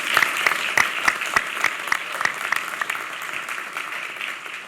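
An audience at a state wine, beer, spirits and cider summit applauds, a dense, steady burst of clapping that gradually fades over several seconds.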